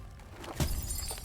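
Frozen ice shatters in the video game Gris, one sharp, bright breaking burst rising suddenly from quiet ambient game sound.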